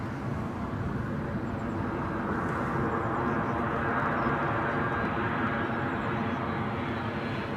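A United Airlines Boeing 767 passes at Heathrow Airport, a broad, steady engine roar that swells gently and holds at moderate loudness, with a person talking faintly now and then.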